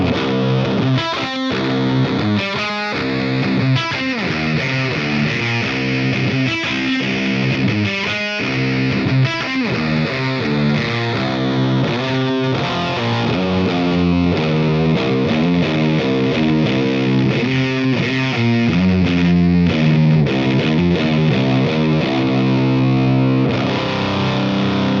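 DemonFX OTA phaser pedal on a distorted electric guitar, set for subtle slow modulation, with a gentle sweeping phase shift over continuous loud, busy playing and no talk.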